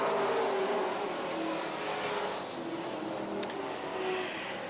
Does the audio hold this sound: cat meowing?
no